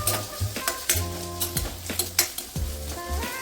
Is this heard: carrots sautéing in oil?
yes